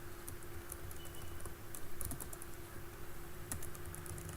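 Keystrokes of Python code being typed on a computer keyboard in PyCharm, a steady patter of light clicks over a continuous low hum, with a few sharper taps standing out.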